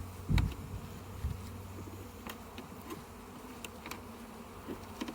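Honeybees at an open beehive being inspected after a puff of smoke, giving a steady close buzzing hum with a few louder bumps and knocks near the start.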